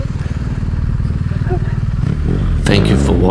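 BMW HP2 motorcycle engine idling close by with a loud, pulsing boxer-twin thump, then a rising rev with rattly mechanical noise; a voice speaks over it.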